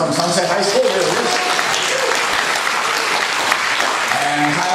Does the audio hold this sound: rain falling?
no